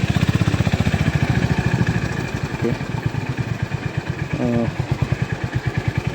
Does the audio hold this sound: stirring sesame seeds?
no